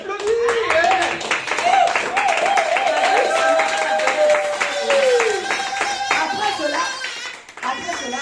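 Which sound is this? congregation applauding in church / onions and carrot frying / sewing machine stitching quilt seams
congregation applauding in church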